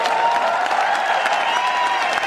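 A crowd at an Ayurvedic product promotion event applauds, a dense steady wash of clapping heard from a distance throughout.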